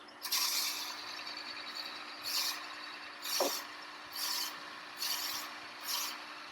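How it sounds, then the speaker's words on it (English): Repeated bursts of harsh, hissing cutting noise as a drill bites into wood on a lathe, about six rhythmic passes over a steady mechanical hum. "So I'm going to go ahead and drill this out."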